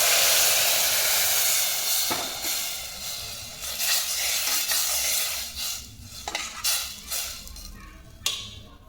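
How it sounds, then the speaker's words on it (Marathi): Water poured slowly into frying masala in a pan for jackfruit biryani, a loud hissing sizzle that fades over several seconds, with scattered clinks and scrapes of utensils. "त्यानंतर थोडं हळूहळू पाणी टाकायचं."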